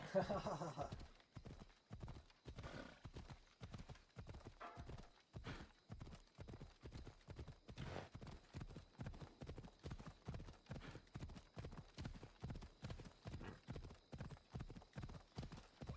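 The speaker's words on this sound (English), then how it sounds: "Nice horse." Horse hooves clip-clop at a steady walking rhythm on a hard path in a video game, an even run of distinct, fairly close hoofbeats throughout, with a brief burst of other noise at the start.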